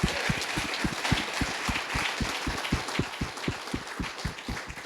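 Audience applause at a surf park industry summit closing session, dense and steady, with a regular rhythmic thumping beat running under the clapping throughout.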